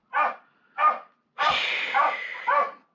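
A dog barks nearby at a net-sewing session in Hawaii, giving two short separate barks followed by a longer, rougher stretch of repeated barking, loud and with no talk over it.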